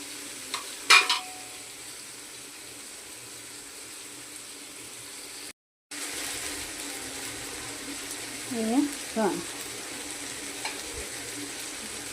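Spices sautéing in hot oil with soya chunks, a low steady sizzle punctuated by a few scraping stirs early on and again near the end, with a brief gap of silence midway.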